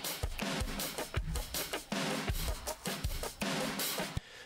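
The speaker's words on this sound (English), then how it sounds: "Way over compressed" A drum bus is heavily over-compressed with quick attack and release, giving a pumping, squashed groove of kicks and snares that repeats steadily and plays fairly quietly with no voices.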